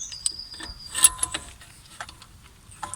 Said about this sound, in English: So now we just need to push in the piston before we can start assembling everything.